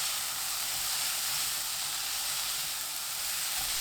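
A Korean vegetable side dish stir-fries with roasted salt in a pan over medium heat, producing a loud, steady, close sizzle and hiss that carries on unbroken with no voices.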